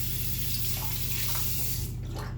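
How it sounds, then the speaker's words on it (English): Cold water runs steadily from a tap onto an alum block during a wet shave, a continuous close splashing hiss that holds throughout with no talk. "I run some cold water on it"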